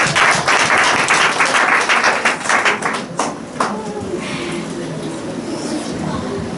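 Audience of children and adults clapping for a contestant at a Children's Day Bible quiz, a loud dense burst of applause that tapers off after a few seconds.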